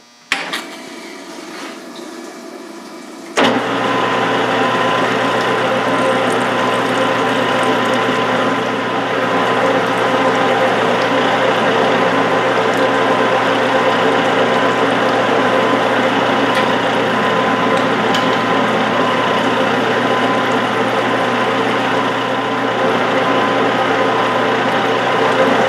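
A metal lathe single-point threading stainless steel with a sharp carbide threading tool at 1-in-12 pitch while rebarreling a Mauser rifle; after a quiet start, a steady loud whir of machine and cutting noise runs continuously, with no talk.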